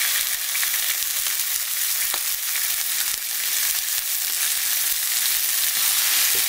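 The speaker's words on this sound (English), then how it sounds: "So get that sizzle going on." Rouladen browning in a hot pan give off a loud, steady sizzle and crackle that holds throughout with no voices over it.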